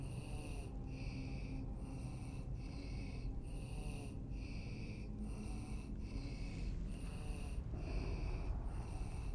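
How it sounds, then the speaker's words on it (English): Heavy, creepy breathing from a dark video game scene, a steady rasping rhythm of drawn-out breaths repeating about once a second under a constant low ambient drone, fairly close and moderately loud throughout. "Seriously, that is creepy heavy breathing."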